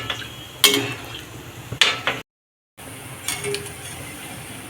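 A spoon stirring gulab jamun as they fry in a pan, with a few sharp metallic clinks and scrapes against the pan over a low background hiss, plus a brief silent gap.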